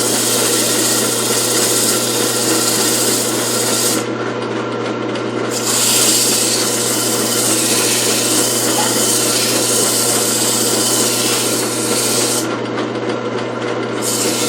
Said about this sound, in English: No matter how hard you sand, you're not burning your fingers.